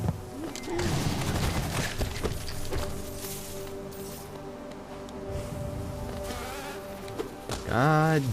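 Bees buzzing in the video game Hollow Knight, a dense steady drone that swarms across the whole stretch, mixed with game effects and ending in a louder warbling burst.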